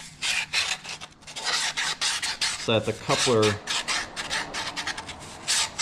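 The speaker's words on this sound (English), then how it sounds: "Just give that a nice sanding" Sanding burrs off a cut cardboard rocket body tube, a steady scratchy rubbing in repeated strokes that runs throughout, with a short stretch of talk partway through.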